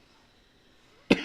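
A single short cough bursts out near the end after about a second of near silence, close and fairly loud, on a live local radio news broadcast.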